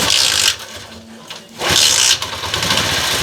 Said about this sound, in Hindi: मोटरसाइकिल स्टार्ट हो गया